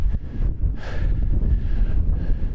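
Gusty wind buffets the microphone outside an abandoned mine adit, a steady low rumbling roar with a louder whooshing gust near the start, continuous and close throughout with no voices.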